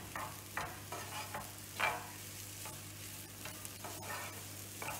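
Onions for a masala sandwich are stirred in a pan, with soft scraping strokes every second or so over a faint sizzle and a low steady hum, quiet and close.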